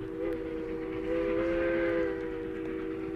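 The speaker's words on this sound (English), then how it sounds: "it was a train whistle much the same as that" A train whistle sounds as one sustained, steady chord of several blended tones, fairly loud and holding for about three seconds with a slight swell in the middle, over a low background rumble.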